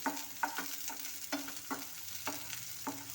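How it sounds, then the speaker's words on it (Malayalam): Small shallots sautéing in a pan with ginger, garlic and chili, a steady soft sizzle broken by several sharp scraping stirs at uneven intervals, close and fairly quiet with no talking. "അതിൻ്റെ കൂടെ തന്നെ ഈ കൊച്ചുള്ളി ഇട്ട് കൊടുക്കുക എല്ലാം കൂടെ ഒന്ന് വഴണ്ട് വരണം"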